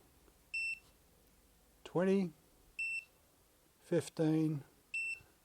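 Three short, high electronic beeps from a 7 kW EV granny charger as its charging current is set, evenly spaced, with someone talking between them.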